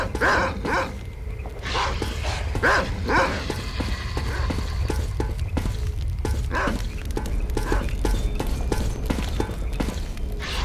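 Dogs barking repeatedly in S.T.A.L.K.E.R. Call of Pripyat, played on a dark mod, with a run of sharp barks and yips over a steady game ambience that keeps going throughout.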